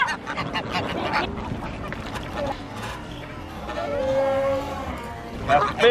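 Ducks quacking around a boat as duck food is scattered into the wind, a scatter of honking calls close by, mixed with excited voices talking and exclaiming over them.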